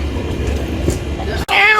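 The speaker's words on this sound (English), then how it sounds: "And they have a fluffy cat." A fluffy cat meows with a short rising cry near the end, after a stretch of crowded background noise on a Bourbon Street night outing.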